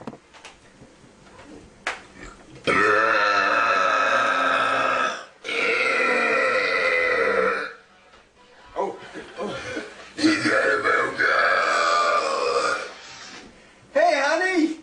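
A man belches loudly and at length, several long drawn-out burps with pauses between them, close to the microphone, with a few chuckles and coughs mixed in.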